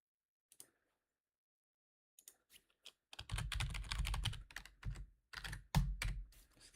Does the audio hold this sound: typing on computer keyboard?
yes